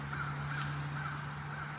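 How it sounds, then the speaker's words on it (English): A raven and several crows caw outdoors, a few repeated harsh calls at moderate distance over a steady low hum. "That's a fucking raven and 4 crows."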